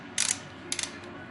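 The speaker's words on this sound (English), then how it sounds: "when I'm putting it back on, I'm going to use what's called a torque wrench" Torque wrench ratcheting on a bicycle crank Allen bolt, two short bursts of crisp metallic clicks close up, the second burst shorter.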